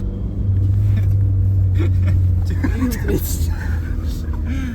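Opel Corsa engine revving while driving, a loud steady low rumble inside the car with rising engine tones, and people talking throughout.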